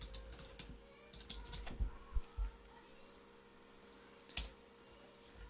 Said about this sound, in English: and then I would type father-daughter dance